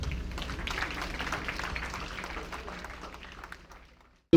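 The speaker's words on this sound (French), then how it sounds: "On les applaudit s'il vous plaît." Guests at a Congolese wedding applaud the groom's parents, a crowd clapping that starts at full strength and gradually fades out before a brief loud bump right at the end.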